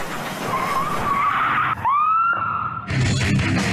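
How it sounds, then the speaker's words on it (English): Tires squealing as a damaged car skids out of control during a police chase, a sustained screech with a sharp pitch sweep midway and a brief break, followed by a louder burst of noise. "suddenly he loses control again, sideswipes a tree and comes to a stop."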